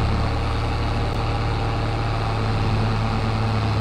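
A Massey Ferguson 290 tractor engine in Farming Simulator drones loud and steady at a low pitch while harvesting forage, laboring under strain throughout, with no voices.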